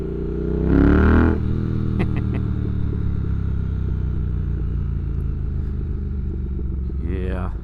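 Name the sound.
2022 Triumph Speed Twin motorcycle riding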